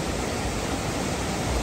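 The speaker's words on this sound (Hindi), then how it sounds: "ये देखो बिल्कुल नीचे नदी बह रही है यहाँ पे और इतनी तेज आवाज आती है पानी की यहाँ पे" A river rushes loudly below a roadside river cafe in monsoon Himachal, a dense, continuous roar of flowing water with no breaks and no voices.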